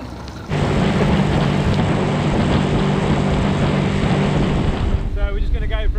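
A 2,500-horsepower speedboat races at about 25 knots on the open sea near the Scilly Isles. Its engine gives a loud, steady roar with wind buffeting the microphone, then eases off near the end.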